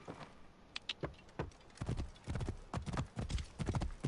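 Horse hooves clip-clop in the Assassin's Creed game, a string of sharp, irregular hoof strikes that come sparse at first and then settle into a quicker, denser gallop-like beat, fairly close.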